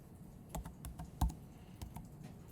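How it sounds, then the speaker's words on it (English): Someone types a string of numbers on a computer keyboard. The key taps are close, quiet and irregular, with a few sharper clicks in a short burst and no speech. "So I'm going to start typing it."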